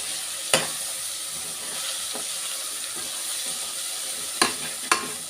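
Sambar masala frying in a pan as a spoon stirs it, a steady soft sizzle broken by a few sharp scraping knocks near the start and end, with no talk.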